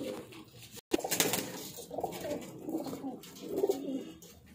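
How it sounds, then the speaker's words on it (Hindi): Pigeons coo in soft, repeated throaty murmurs close by, with a brief wing flutter or rustle early on. "ये लो भाई, ये टोटल कबूतर है"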